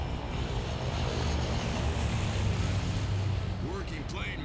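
An airplane flying in the Left 4 Dead 2 video game, a steady droning engine rumble that holds throughout, with people talking over it.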